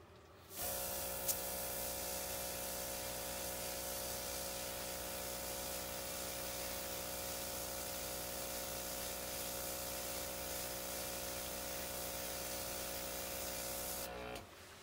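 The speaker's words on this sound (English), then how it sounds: "This is airbrush, this is temporary. It's not gonna run because it's all sprayed up." An OPAWZ airbrush sprays temporary color onto a dog, producing a steady, close hiss over a constant compressor hum that runs for about fourteen seconds before cutting off.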